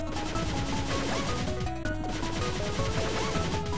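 Rapid, continuous gunfire and impacts from a dragon boss fight in the game Cave Story blend with a steady synth soundtrack. The noise stays loud and dense throughout, with only one brief dip.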